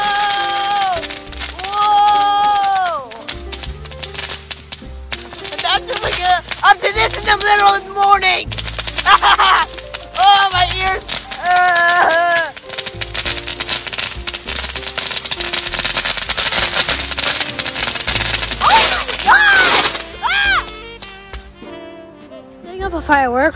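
Fireworks go off in a loud, dense run of bangs, crackles and whistling rises. Excited voices talk and exclaim over the blasts.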